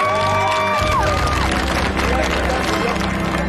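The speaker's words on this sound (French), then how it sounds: "On peut les applaudir, hein." Winning team applauded on a Pékin Express reality-game set: loud clapping and cheering from a small group with whoops and babbling voices, held steady throughout, after a brief musical sting at the start.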